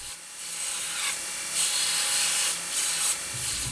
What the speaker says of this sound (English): Trying to cut this off with the grinder without hitting the actual tube seemed a bit too risky, so instead I figured I'd just grind it off.